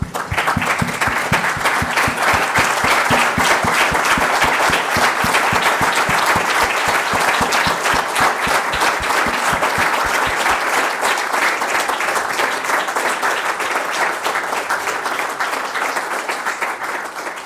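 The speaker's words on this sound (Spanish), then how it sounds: "Yo les voy a pedir que todos se pongan de pie y aplaudan conmigo a Saúl Umansky." Audience at a world phlebology congress rises to give a sustained standing ovation, dense steady applause filling the hall at full strength before thinning slightly toward the end.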